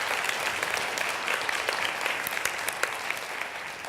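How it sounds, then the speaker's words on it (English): Steady, even applause from an audience at a keynote talk, a dense patter of many hands clapping throughout without talk over it. "Big applause for."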